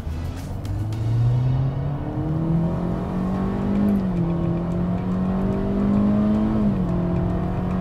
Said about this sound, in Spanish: llega el momento de probar la aceleración del Sonet y para eso, en los modos de manejo, selecciono la posición Sport